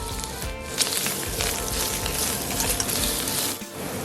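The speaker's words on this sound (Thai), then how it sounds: "เป็นเห็ดหอมครับ ใส่ลงไปผัดให้หอมเลยนะครับ" Shiitake mushrooms stir-frying in a pan, a steady dense sizzle with a few scraping stirs, close and continuous apart from a brief dip near the end.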